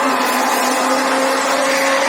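An electric blender runs continuously, whirring steadily and loudly as it blends eggs for omelettes, with a strong motor whine and no breaks.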